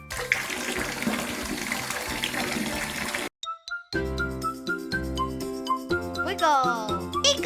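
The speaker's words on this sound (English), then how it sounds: "Let's turn the water on." Tap water gushes into a bathtub for a cartoon bubble bath, a steady broadband rush that stops briefly, then gives way to bright jingling music tones with spoken voices over it.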